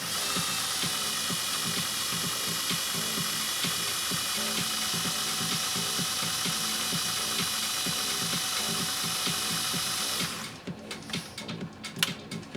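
A 1957 Singer 401A sewing machine stitches a fine satin stitch, a rapid, steady mechanical whir and clatter up close for about ten seconds before slowing into scattered clicks and knocks as it stops.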